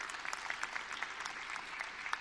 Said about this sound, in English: a round of applause for the gentleman